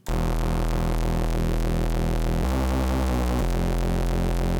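A reese bass synth made from two saw waves driven into tube diode distortion drones loud and continuous, its thick buzzing tone gently phasing and changing pitch partway through, alone with no voices.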